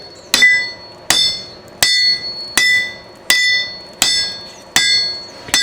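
A hammer strikes metal during sword forging, eight sharp ringing blows in a steady rhythm about three quarters of a second apart, each leaving a bright metallic ring that decays before the next, close and loud.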